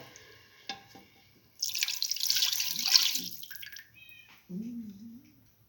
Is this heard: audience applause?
no